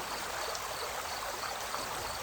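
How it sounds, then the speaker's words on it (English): A gently flowing stream runs steadily beside a woodland path, a soft continuous wash of water with faint trickling, moderately quiet and even throughout with no voices. "You walk alongside the gently flowing stream"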